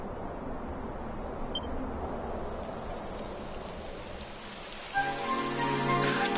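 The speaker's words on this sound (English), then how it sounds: "It would have to go and start raining, wouldn't it?" Rain beginning to fall in the video game Final Fantasy XVI, a soft, steady hiss of rainfall that continues under a faint tonal musical layer rising toward the end.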